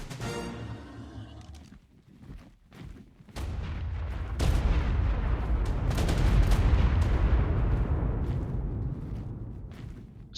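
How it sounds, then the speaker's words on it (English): A massive fireball explosion in ARK Primal Fear: sharp cracks and thuds open, then a sudden heavy boom swells into a loud, sustained rumbling roar that lingers for several seconds before slowly fading. "So that massive fireball and explosion, and the other one"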